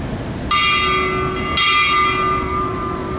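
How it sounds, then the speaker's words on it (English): A bell rings twice at a ceremonial Veterans Day program, each strike bright and resonant with a long ringing decay, spaced about a second apart over a steady background hum. "The toll of the bell reminds us of the reverence we owe to our missing servicemen and women."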